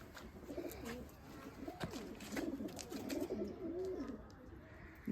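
Show-class pigeons kept by a fancier in a village near Batala coo in soft, continuous rolling calls, faint but close, over light background noise.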